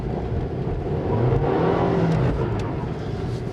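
A Mercedes-Benz 4Matic engine revs steadily on ice, a rising and falling whine over continuous broadband noise from all four tires sliding, close and fairly loud, with no voices.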